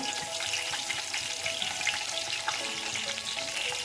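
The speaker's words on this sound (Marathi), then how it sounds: "मस्त फोडणी बसणार आहे बघा. मिरची पण टाकली" Green chilies sizzling in hot tempering oil for chicken biryani, a continuous crackling fry noise that stays even and moderately quiet, heard close with no voices.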